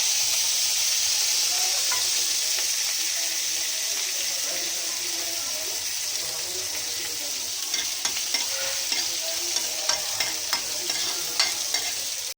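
Green chillies sizzle and fry in a pan for a simple fasting-style potato dish, a steady loud hiss with light scraping and tapping from stirring that grows more frequent toward the end.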